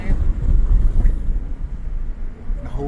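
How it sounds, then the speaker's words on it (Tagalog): Strong wind buffets the microphone aboard a boat touring Milford Sound in New Zealand, a loud, gusty rumble that surges and eases across the few seconds. "Grabe, ang lakas ng hangin."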